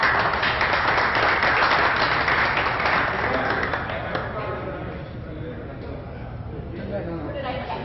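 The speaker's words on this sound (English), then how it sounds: "Please give them a round of applause." A crowd at a snooker qualifier event applauding, a dense steady clapping that is loudest at first and then thins and fades into a quieter room with talk.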